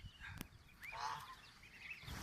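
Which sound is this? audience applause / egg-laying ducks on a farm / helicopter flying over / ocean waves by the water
egg-laying ducks on a farm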